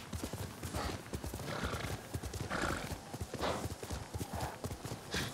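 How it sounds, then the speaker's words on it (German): Rapid rhythmic hoofbeats of a galloping horse in Ghost of Tsushima, steady and close, with a couple of whinnies rising over the clip-clop. "mit dem Pferd bin ich eh schneller"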